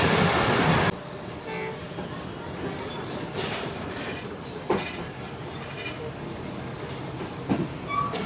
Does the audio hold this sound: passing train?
yes